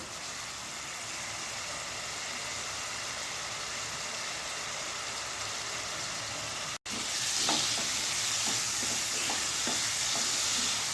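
Tomatoes and spices sautéing in a pan, a loud, continuous close-up sizzle with stirring, briefly cut off for an instant, then resuming with soft scraping under the frying.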